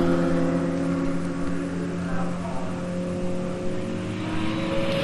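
A Porsche 924 race car runs at Silverstone in a BRSCC Porsche series race, its steady loud engine drone holding throughout with a sustained whirring tone and a slight rise near the end.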